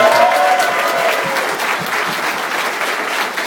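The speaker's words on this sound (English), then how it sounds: "thank you very much for giving these guys a round of applause" An audience at an auto assembly gathering claps in sustained applause, loud and close at first and easing slightly, with a faint murmur of voices underneath.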